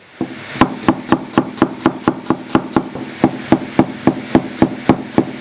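A knife chops onions steadily on a cutting board, about twenty crisp, evenly spaced knocks in a quick rhythm, close and clear.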